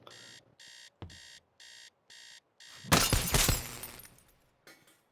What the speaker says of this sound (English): Sorry, I hate alarm clocks.